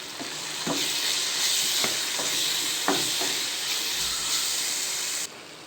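Jackfruit curry with chili powder stirred in a pan, a steady hissing simmer with several sharp spoon scrapes and taps close by, no voices.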